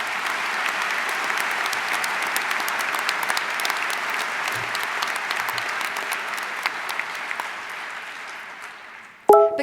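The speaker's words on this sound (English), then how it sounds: "So now you can give a big round of applause to everybody." Sustained applause from a large audience at a university commencement ceremony for Western Governors University graduates in Washington, steady and dense for about nine seconds before tapering off, ending with a brief bump.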